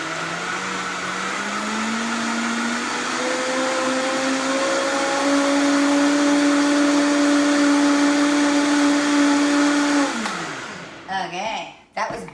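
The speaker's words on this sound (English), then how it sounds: "I'm gonna give this a good long spin because I really want those eggs whipped up nicely." A blender runs for about ten seconds whipping eggs for gluten-free high-protein donut batter, its motor whine climbing in pitch as it spins up and holds steady, then cutting off into a few softer handling clatters.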